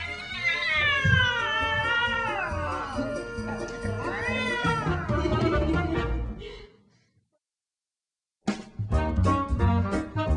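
A cat meows in long, rising and falling wails, loud and close, for several seconds before a stretch of silence, then a different sound starts abruptly.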